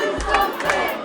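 A crowd at an Ohio political rally for governor candidate Nan Whaley cheers and shouts in loud bursts, with two swelling roars close together.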